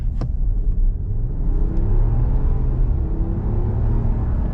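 A 2026 RAM 1500 Express Black Edition pickup's engine rumbles low and steady as it accelerates at full throttle, a muffled throaty drone heard from inside the cab with rising tone.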